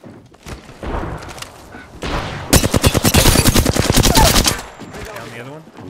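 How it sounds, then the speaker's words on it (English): Video game gunfire bursts out in a long, rapid automatic volley loud and close, with shorter bursts before it and low chatter around the shooting. "Cover fire, Bill."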